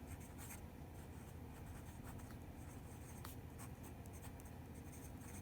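A Jinhao X750 fountain pen with a medium number 6 nib writes on paper in Mont Blanc Royal Blue ink, a faint, steady scratching of close strokes over a quiet background hiss.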